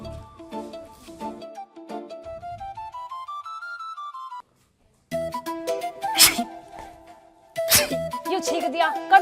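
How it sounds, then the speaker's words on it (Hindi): A couple of sharp, close sneezes burst out over twinkly background music during a rural comedy film scene, after a brief moment of silence. "ये छींक दिया, कर दिया साउंड खराब"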